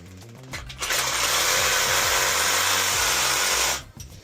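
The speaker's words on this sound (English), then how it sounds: "Milwaukee sees me using their Milwaukee Fuel hacksaw, cutting a piece of threaded rod" A Milwaukee Fuel cordless hacksaw cuts through threaded rod, the motor spinning up, holding a loud, steady buzzing reciprocating drone for about three seconds, then stopping.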